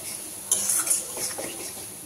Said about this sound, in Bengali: এই পর্যায়ে দিয়ে দেবো 1 চামচ ঘিটা দিয়ে মিক্স করছি।